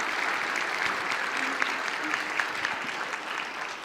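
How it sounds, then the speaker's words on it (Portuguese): Audience applause for an actress at a live talk event, a steady, fairly loud wash of many hands clapping that holds evenly from start to finish with a few sharper claps standing out. "Uma salva de palmas para essa atriz."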